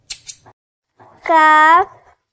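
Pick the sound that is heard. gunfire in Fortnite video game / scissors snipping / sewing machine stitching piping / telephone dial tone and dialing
scissors snipping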